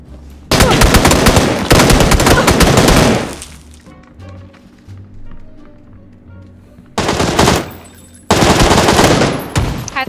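Video game gunfire comes in loud, dense automatic bursts of rapid shots: one long volley, a quieter gap with faint game sounds, then two more sustained bursts near the end.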